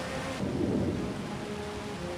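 Thunder rolls through a heavy storm in an audio drama, a low rumbling swell over steady rain hiss, sustained and fairly loud with no voices.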